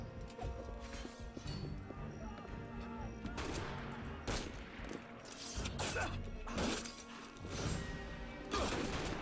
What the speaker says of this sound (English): There's an unfortunate number of people with guns here.